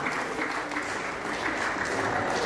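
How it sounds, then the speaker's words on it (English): An audience at a church gathering claps continuously, a steady dense patter of many hands sustained throughout without a break. "Let's keep clapping for the new, new doctor."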